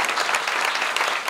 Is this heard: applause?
yes